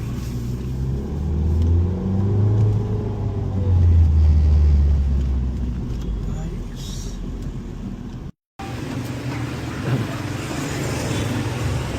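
A repaired car engine, its fault still present, runs steadily with a low rumble, swelling into a rev partway through, then briefly cutting out before idling again.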